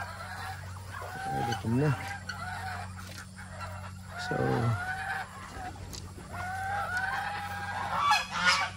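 Geese and ducks honk and cackle in short bursts at fairly close range, with a steady low hum underneath and someone speaking briefly.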